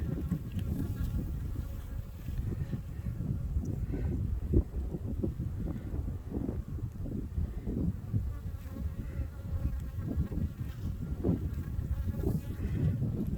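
Honey bees from a weak spring colony buzz continuously during a beehive inspection, a dense low drone close to the microphone with individual bees swelling past and light wind rumble underneath.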